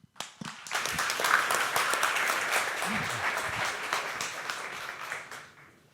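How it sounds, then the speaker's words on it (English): Audience applause at a Long Now evening talk introducing science-fiction author Neal Stephenson and co-founder Stewart Brand: a full room of steady clapping that swells quickly, holds for several seconds, then thins out. "Please give a big round of applause for Long Now co-founder Stewart Brand"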